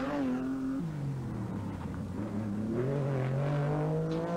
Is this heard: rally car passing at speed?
yes